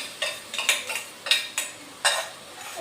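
A spoon clinks and scrapes against a pot while milk and sugar are stirred slowly over low gas, in a series of separate light metallic taps spaced irregularly, close and clear, with no voices.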